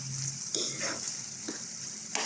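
Sliced onions sauté in a hot pan for pork ginisang bagoong, giving a steady close sizzling hiss broken by a few sharp spatula clacks from stirring, with no talking.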